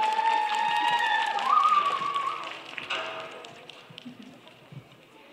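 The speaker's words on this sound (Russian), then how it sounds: "Аплодисменты, аплодисменты." An audience at a stage tribute performance gives scattered applause that tapers off into fainter, sparse claps. A sustained musical tone plays early on, and no voices are heard.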